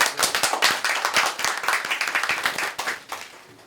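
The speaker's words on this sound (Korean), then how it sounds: "먼저 신정환 선생님 모시고 발표 듣겠습니다. 큰 박수를 맞아주십시오." A small lecture audience at a talk on Rawls's theory of justice and the welfare state claps to welcome a speaker, a short burst of distinct, fairly close hand claps that thins out and fades near the end.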